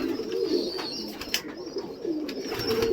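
Soft, low pigeon cooing repeats in rounded phrases against a steady background murmur, with a few brief higher chirps mixed in.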